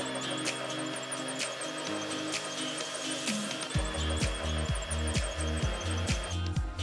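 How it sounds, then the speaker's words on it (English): A power drill whines steadily while drilling through a wooden cabinet in a camper van, with repeated grinding bursts and pauses as the bit bites in; close and loud, no talking. "I have to drill right in here, and I don't have a lot of room."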